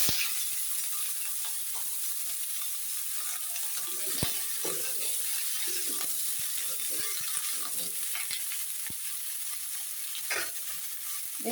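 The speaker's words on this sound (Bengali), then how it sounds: "প্রথমে আমি আলু আর বেগুনটা ভেজে নেব।" Potato and eggplant fry in a kadai with a soft, constant sizzle, punctuated by frequent clicking and scraping taps of a spatula stirring against the metal.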